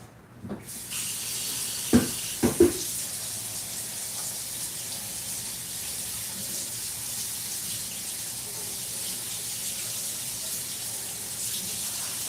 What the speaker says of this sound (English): I'm gonna go wash my tools again real quick.